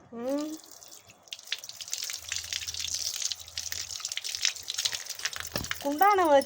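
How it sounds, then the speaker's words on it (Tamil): Water drips and trickles from an old household pipe into a pot, a faint, uneven splashing beneath someone speaking Tamil nearby, with brief whistling tones at the start and end. "குண்டான வச்சு பிடி, தண்ணி வேஸ்ட் ஆகிட்டு இருக்குது."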